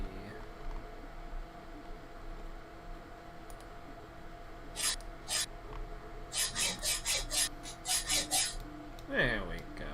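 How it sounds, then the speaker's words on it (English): A hacksaw scrapes against high-speed steel without cutting, a series of short harsh rasping strokes, close and moderately loud, following a quieter stretch of faint rubbing. "I failed to remember that a hacksaw will not touch high-speed steel."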